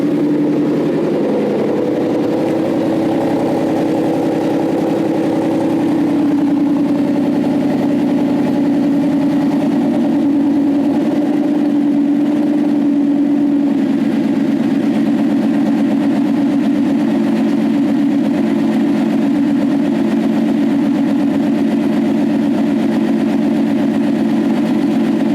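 A Ford 5.0 V8 fitted with a BOSS 302 intake manifold idles steadily for a long stretch, a loud close low rumble with a slight rise and dip, no voices over it.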